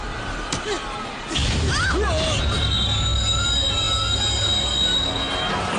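A train's wheels squeal loudly in a film scene, a sustained high metallic screech over a heavy rumble of rolling rail cars, with voices briefly heard near the start.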